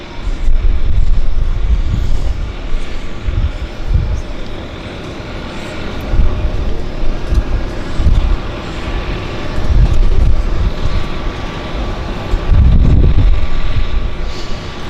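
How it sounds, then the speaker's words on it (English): Steady wind rushes and buffets outdoors at a downtown harbour airport, loud and continuous with gusts swelling and easing, a low rumbling roar filling the background. "A little bit of a wind, if I dare say so."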